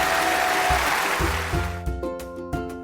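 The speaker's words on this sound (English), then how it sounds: "Cue more applause." Crowd applause rushes as a dense wash of clapping, mixed with sustained musical tones that take over as the clapping thins out toward the end.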